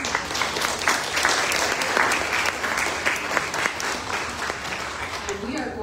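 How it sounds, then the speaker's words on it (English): An audience at a climate justice event applauds, steady sustained clapping from a crowd that fills the room, fairly even in loudness throughout. "So let's give them a round of applause."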